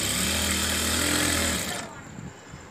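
A sewing machine stitches fabric during a tailoring lesson, its motor giving a steady, close whirring hum for nearly two seconds before stopping, with quieter room noise after.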